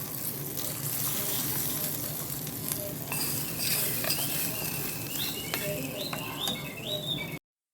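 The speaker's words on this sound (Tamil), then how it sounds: "இதுலேயே சட்னிலே நம்ம மிக்ஸ் பண்ணி விட்டுறலாங்க" Hot tempering is stirred into chutney, giving a steady sizzling, crackling hiss with small scraping and spoon sounds throughout, close and continuous until it cuts off abruptly.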